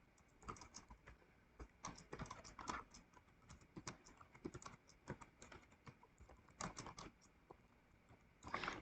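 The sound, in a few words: typing on a computer keyboard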